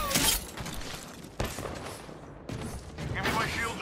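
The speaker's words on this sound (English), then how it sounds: "Hey, I'm getting shot." Gunfire in the Apex Legends video game: sharp bursts of shots at the start and near 1.4 and 2.5 seconds, with game character voice lines spoken over the fighting.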